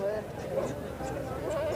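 Goats bleating at a large livestock market, a few wavering calls repeating through the clip while people talk nearby over a busy crowd background.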